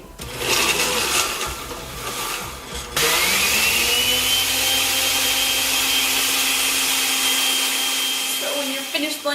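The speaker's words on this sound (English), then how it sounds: "when you're finished blending, you'll have a beautiful creamy blueberry puree" Blender pureeing blueberries into a creamy puree for raw vegan chocolates: a loud, steady motor whir that kicks in sharply after a few seconds of quieter clatter and holds an even pitch until near the end.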